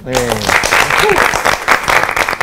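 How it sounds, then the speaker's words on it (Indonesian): Studio audience applause at an Indonesian talk show, a steady dense wash of clapping right after a host's spoken request, continuing loud and close for a couple of seconds with a voice briefly over it. "Tepuk tangan dong."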